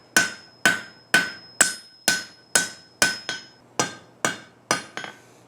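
A hammer dings the edges of a forged steel boot scrape, about a dozen bright ringing metallic strikes at an even, unhurried pace, each decaying quickly, close and alone.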